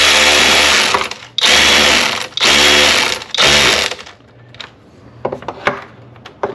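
A power driver tightens a T15 Torx screw during a spark plug and ignition coil change on a Mercedes E350 3.5L, giving four loud, close whirring bursts separated by brief pauses, followed by quieter clicks and handling noises.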